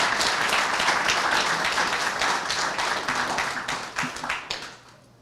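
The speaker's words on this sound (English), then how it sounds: "So let's give him a round of applause." Audience applause for an honoree at a men's health summit at a Boston health center: dense, steady clapping from a crowd that holds strong, then thins and fades out near the end.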